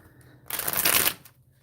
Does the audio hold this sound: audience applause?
no